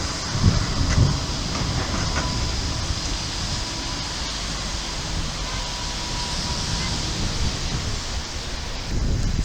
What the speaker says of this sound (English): There's a tram going past.